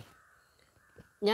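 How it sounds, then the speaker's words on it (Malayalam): A crow caws among forest trees, one loud harsh call bursting in at the end after quiet, soft speech near the start. "ഒരു പ്രത്യേക പക്ഷിയുടെ സൗണ്ട് കേട്ടില്ലേ?"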